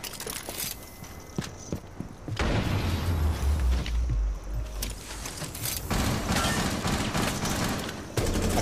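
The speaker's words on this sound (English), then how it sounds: "He's shooting it" Bursts of rapid gunfire in a ranked duo-queue shooter match, loud and dense, running for several seconds alongside other game noise with no talk.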